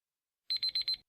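Quiz timer alarm marking the end of the answer time at a quiz event, four quick, evenly spaced high electronic beeps in a short burst after silence, clear and alone.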